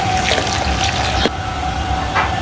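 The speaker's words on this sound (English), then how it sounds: "Next, we add pure spring water." Spring water pours into a traditional copper rosewater still, a continuous close splashing and trickling stream with a faint drip near the end.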